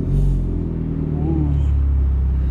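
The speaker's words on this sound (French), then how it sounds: "Si je donne du gaz, ça augmente" A car engine idles low and steady, then climbs slightly in pitch as throttle is applied, a close, rumbling tone that holds through.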